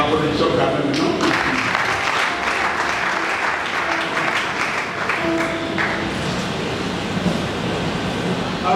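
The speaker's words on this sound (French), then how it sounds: "Applaudissons quand même, non?" Sustained applause fills a large church gathering at a charismatic community prayer crusade for the nation, a dense steady clapping wash from many hands lasting throughout, with scattered voices mixed in.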